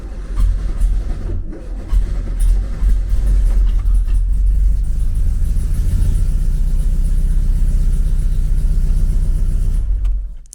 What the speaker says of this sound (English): Oh, grind to start motor.